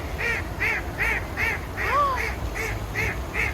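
A duck quacks loudly and repeatedly in steady bursts, about two or three quacks per second, close by with a faint low background hum.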